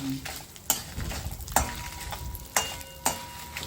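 Dried red chillies frying in hot oil for a tempering in a home kitchen, a soft steady sizzle under several sharp metallic clicks and taps of a stirring spoon against the pan.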